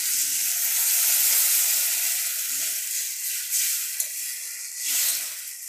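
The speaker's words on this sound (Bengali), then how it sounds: "এবার আমি পরিমাণ মতো জল দিয়ে দিচ্ছি।" Steady loud sizzle and hiss as water hits hot oil in a pan of Bengali fish curry made with folui fish and potatoes, rising and falling in waves over about six seconds with no talking.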